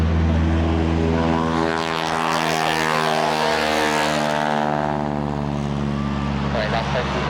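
A propeller airplane at the Chailey Airshow 2004 drones loudly and steadily throughout, its engine tone shifting slightly as it flies close by, with radio chatter tagged under it.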